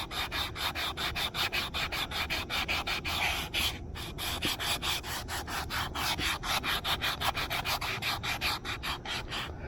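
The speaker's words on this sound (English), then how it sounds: "let's do a lot of sanding" Hand sanding of a spoon carved from hard, gnarly spalted wood, with rapid back-and-forth rubbing strokes in an even, close-up rhythm, about five strokes a second, broken by one brief pause partway through.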